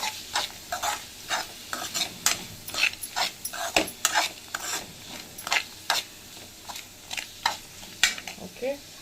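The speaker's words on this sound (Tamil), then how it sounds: "இவ்வளோ வதங்கினா போதும் வெங்காயம்." Sliced onions with a little turmeric cook in a pan, a spatula stirring and scraping in irregular strokes over a faint sizzle, close and fairly quiet.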